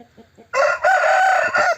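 A rooster crows once in a single long, loud, close call lasting over a second, with brief quieter clucking and farmyard sounds just before it.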